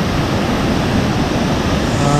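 Steady, dense rushing water noise from a waterfall near Ooty fills the whole stretch, loud and continuous, with no voices.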